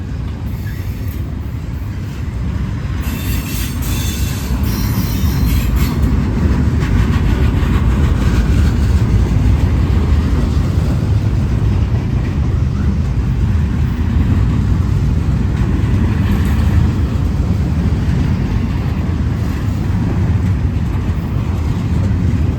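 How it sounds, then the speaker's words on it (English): A Norfolk Southern freight train rolls slowly past on the Charlotte District at Gaffney, South Carolina, as a storm moves through. A loud, steady, close rumble of wheels and cars holds for the whole stretch. "It might just be a slow train today."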